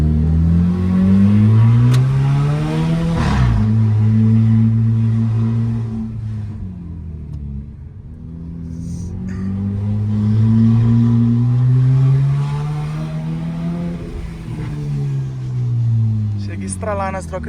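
Jeep Compass 2.0 naturally aspirated 166 hp engine with an open stainless exhaust diffuser, revving loudly through gear changes while driving; a deep harmonic rumble rises and falls across the clip, with voices talking over it.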